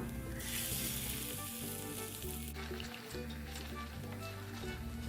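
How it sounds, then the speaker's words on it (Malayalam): Beaten egg poured into a hot pan with banana crackles and sizzles steadily at close range, a bright hiss that fades partway through over a low background hum, with no talking. "ഇതിലേക്ക് നമ്മൾ നേരത്തെ അടിച്ചു വെച്ചിരുന്ന മുട്ട ഒഴിച്ചു കൊടുക്കാം"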